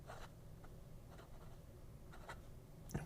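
An extra fine nib pen writes across paper in faint, soft scratchy strokes, a few short bursts over quiet room noise.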